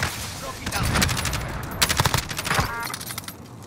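Gunfire in Call of Duty Warzone, with rapid automatic bursts crackling in clusters and sharp repeated shots fading out, mixed over faint game ambience.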